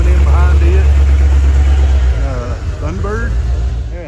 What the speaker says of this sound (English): Got a Chevelle or Malibu coming in behind it.